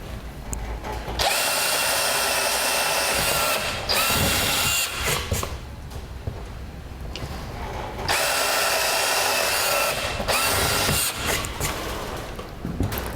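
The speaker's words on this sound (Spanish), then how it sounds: "Once my wood is connected, we're going to drill the holes." A power drill bores holes through wood for an adjustable PVC chair. The motor whines loudly and steadily in two long runs, with short pauses and clatter between them. No one speaks.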